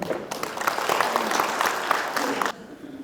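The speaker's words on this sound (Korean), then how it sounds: "큰 박수 부탁드립니다" An audience at a Gyeongju mayor's press conference breaks into applause, a dense moderate clapping that swells and then cuts off abruptly near the end, leaving quieter room tone.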